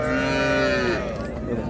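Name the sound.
cow mooing at a livestock market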